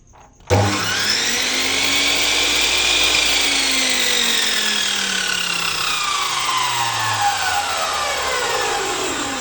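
A 14-inch Ossel abrasive cut-off saw starts abruptly and runs steadily at high speed, a loud, whining, grinding roar with shifting tones, close by and without any talking.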